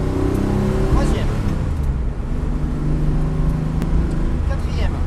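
A car accelerates hard during a French driving lesson, the engine rising loud and steady through the gears with road noise, while an instructor talks over it.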